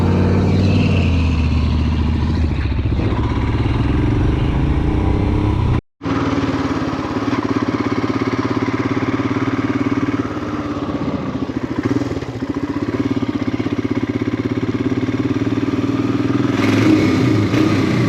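Royal Enfield Himalayan motorcycle engine revving loudly in an underpass, a close, continuous throaty drone with surges in pitch, broken by one brief cut-out before the engine roars on steadily to the end.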